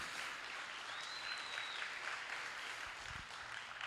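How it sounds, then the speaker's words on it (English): A church congregation claps during a sermon, continuous dense applause sounding somewhat distant and soft, holding steady for about four seconds with no voice over it. "If you're going to clap, you might as well clap."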